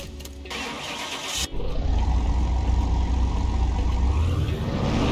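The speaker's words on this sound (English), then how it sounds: "Now let's dyno that." A car engine in the Car Mechanic Simulator 2021 video game starts up on a dyno, a brief crank followed by a loud, steady, close-up engine roar that holds and slowly builds.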